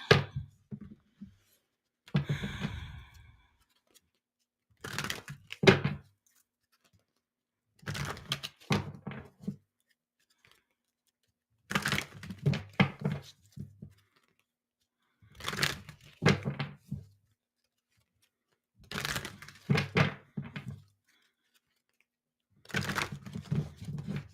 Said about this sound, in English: Just shuffling, people.